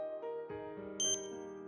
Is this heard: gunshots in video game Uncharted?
no